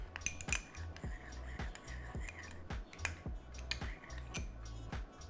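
Spoon clinking against a bowl while garlic and chaat masala are stirred and mixed for a chana chaat veggie casserole, a quick regular run of light metallic taps at close range with no talking.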